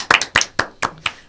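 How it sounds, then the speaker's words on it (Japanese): Five separate hand claps in a loose rhythm, close and crisp, on a radio show run by middle-school students. "拍手。"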